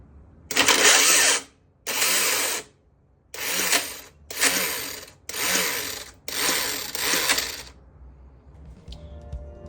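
An electric starter kit cranks hard through a motorcycle gearbox in six harsh, grinding bursts, each lasting about a second with short pauses between, loud and close.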